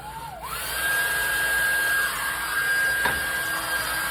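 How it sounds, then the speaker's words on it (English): A loud hair dryer whirs up after a brief start and blows steadily with a high whine, running alone without any voices. "one more time with the loud hair dryer."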